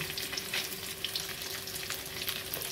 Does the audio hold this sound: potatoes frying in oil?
yes